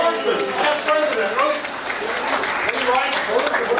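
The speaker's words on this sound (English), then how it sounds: "Everybody give him a round of applause" A Lions Club meeting audience applauds a guest speaker, past president Jim Tormson, with dense, steady clapping that runs the whole time, mixed with voices and crowd murmur.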